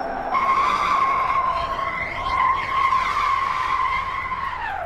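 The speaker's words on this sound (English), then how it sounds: "The obligatory handbrake here right at the end." A car's tires squeal in a sustained, loud handbrake skid in the racing game Car Mechanic 2015, a steady high-pitched screech over engine roar that holds for several seconds before easing off.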